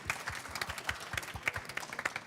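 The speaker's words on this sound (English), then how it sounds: "I think we can have a round of applause there" Scattered hand clapping from a conference audience, a thin, uneven patter of claps at moderate distance rather than a full ovation.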